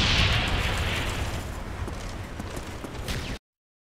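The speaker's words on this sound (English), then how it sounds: "Friendly Napalm strike on the way. Friendly mortars inbound." Napalm strike and mortar explosions in Call of Duty Black Ops: a loud, continuous rumbling roar of burning blasts with scattered bursts and crackles, steady for over three seconds before cutting off abruptly.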